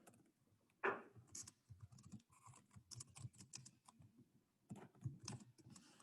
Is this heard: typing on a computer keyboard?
yes